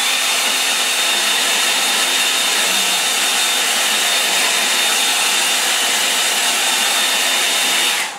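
A hair dryer blows steadily over a watercolor painting, a loud, constant close whoosh that runs unbroken for several seconds before cutting off.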